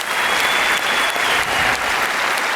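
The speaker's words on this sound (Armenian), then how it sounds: "նորից ծափահարություններով" A stand-up comedy audience claps in a sustained, dense wave of applause filling the hall, steady throughout with no voices standing out.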